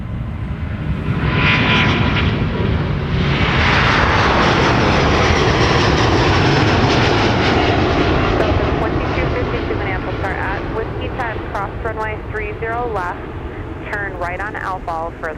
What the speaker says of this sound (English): An A330neo is in charge of the London flight tonight for Delta.